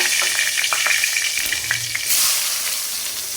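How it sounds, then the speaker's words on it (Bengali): Onion frying in oil in a wok, a loud close sizzle with quick spatula strokes clacking through the first half before the hiss swells and settles, and no one speaking. "এখন আমি একটু পেঁয়াজ ভেজে নিব।"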